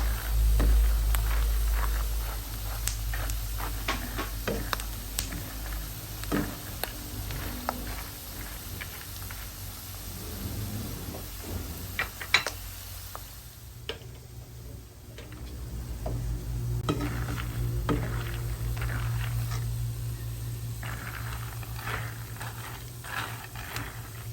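Food frying in hot cooking oil gives off scattered pops and crackles, irregular and fairly close, over a steady low hum, with no one speaking.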